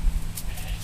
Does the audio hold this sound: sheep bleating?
yes